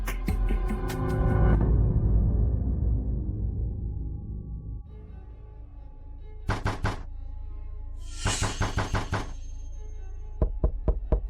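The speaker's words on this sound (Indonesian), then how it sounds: "Kenapa ada yang mengetuk lagi?" Knocking on a door comes in repeated bursts of several sharp raps. The first bursts fade into a ringing tail, and a final round of quicker, lighter taps closes the sequence, all loud and close with no talk.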